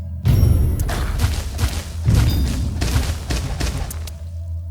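Gem bomb blasts in the Gemcraft Chapter 2: Chasing Shadows game, a dense rumbling barrage of overlapping booms and thuds that rolls on for several seconds, loud and continuous before cutting off near the end.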